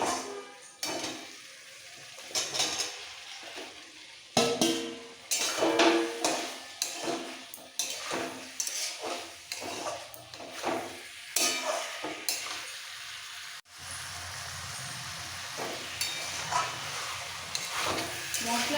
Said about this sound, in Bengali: একটু কষিয়ে পেঁপে আলু ভাজাটা দিয়ে দিচ্ছি